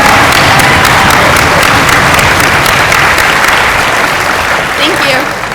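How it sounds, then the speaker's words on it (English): An audience at a veterinary white coat ceremony breaks into loud, sustained applause, with a dense wash of many hands clapping that tapers slightly near the end. "Now you can clap."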